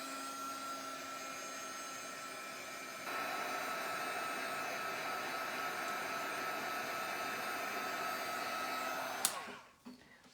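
A heat tool or dryer drying ink on a mixed media canvas, a steady loud whirring blow that steps up in intensity partway through and runs on before cutting off abruptly near the end, with no talking.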